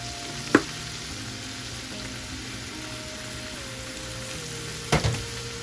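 Brown sugar garlic chicken sizzles in a pan with a steady, close frying hiss, broken by two sharp utensil knocks as it is stirred.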